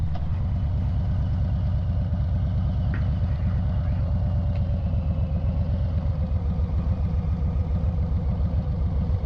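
A Harley motorcycle engine rumbles steadily while riding, a loud, even low-pitched throb with constant wind noise over it and no change in pace.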